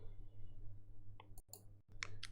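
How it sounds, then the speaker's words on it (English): A computer mouse clicks a few times during drafting work, short sharp clicks in a quiet room over a low steady hum, close and fairly faint. "I'm going to click on the line here"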